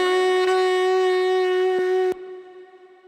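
A sustained saxophone note sent through two reverbs, one of them a shimmer reverb, rings out clearly before cutting off, leaving a soft, bright reverb tail hanging afterward.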